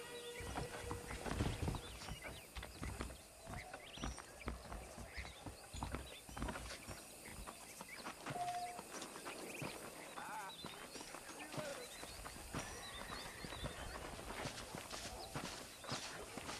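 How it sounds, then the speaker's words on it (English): Steady clip-clop of horse hooves trotting on hard ground, with ambient outdoor noise and occasional voices in the background, from the video game Red Dead Redemption. "The horses are saddled up over here."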